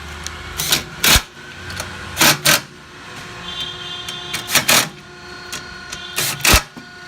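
A power tool whirs in several short, separate bursts as it tightens capacitor screws on a GEN2000 generator, close up, with quiet mechanical noise between spins.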